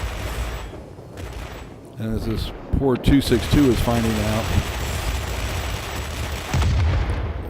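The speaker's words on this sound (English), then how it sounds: "the 6 20 millimeter cannon, and they are the Mark 12s on this" Six 20 mm Mark 12 cannons firing from an XF-90 jet in an air combat video game, dense bursts of gunfire mixed with engine roar while someone talks over most of it.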